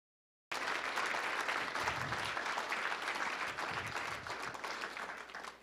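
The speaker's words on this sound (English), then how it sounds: "We ought to give them all a round of applause." Audience at the AAU Sullivan Award ceremony giving the young nominees a round of applause, a sustained, full burst of clapping that starts abruptly and slowly tapers off.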